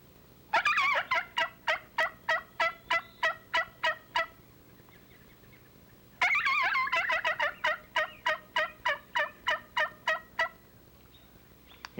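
A turkey call imitates a wild turkey hen's cackle in two loud, close bursts of rapid, choppy notes. Each burst starts fast and slows into evenly spaced clucks, with a short pause between the bursts.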